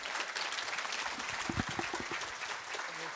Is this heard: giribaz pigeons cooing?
no